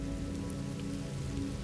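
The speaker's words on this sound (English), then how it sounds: "The rain fell softly at first, steady, patient," Soft, steady rain falls on surfaces in a dense, even patter with no breaks, close and enveloping, part of a thunderstorm ambience.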